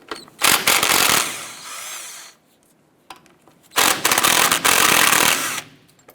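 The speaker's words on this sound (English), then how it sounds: "Using our 13 millimeter socket, we're going to go ahead and remove our 2 lower shock bolts." A power tool with a 13 mm socket rattles off the lower shock bolts on a 1994-2004 Chevrolet S10, with two loud, sustained hammering bursts separated by a brief quiet pause.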